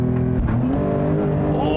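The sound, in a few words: Porsche 911 Turbo accelerating hard from launch control start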